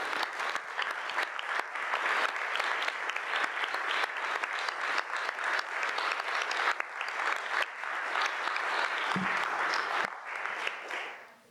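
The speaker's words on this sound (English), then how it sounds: "think he deserves a round of applause" Steady, moderately distant applause from the crowd at an annual town meeting honours a departing town official, continuing evenly for several seconds before fading out at the end, with no talk over it.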